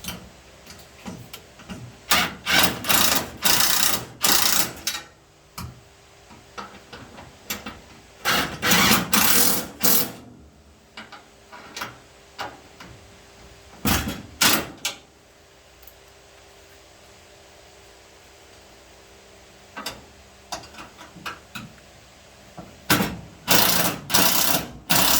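Screws are driven in short powered bursts to mount a battery tray, each a loud close whirring rattle lasting a second or two, separated by quiet gaps across the whole stretch.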